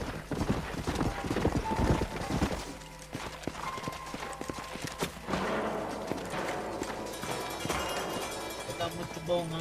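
Horse hooves clip-clop in a steady rhythm, fairly loud, blended with other Red Dead Redemption game sounds and a bit of background music.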